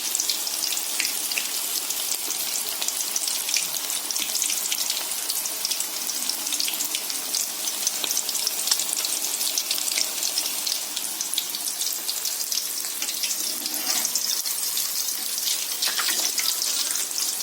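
Masala chicken sizzles and fries in a pan on medium heat, a steady dense crackle of hot oil with faint stirring scrapes running throughout, alone with no talk.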